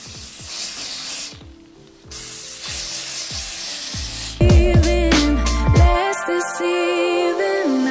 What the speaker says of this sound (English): Actually, let's just do spray today.